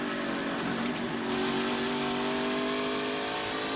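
A NASCAR race car accelerates away, heard onboard as a loud steady engine roar climbing in pitch, with no talk.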